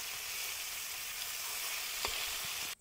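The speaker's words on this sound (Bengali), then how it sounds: "প্রথমে তার জন্য আমি মাছটা ভেজে নিলাম।" Ayre fish frying in hot oil gives a loud, steady, close sizzle with a few faint clinks, continuing evenly until it cuts off at the end, without speech.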